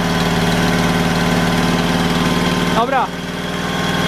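A Fiat Cinquecento 700 engine fitted with a Fiat 126p carburettor idles loudly and evenly up close, a steady throb broken by a short spoken word and a brief dip before it settles again.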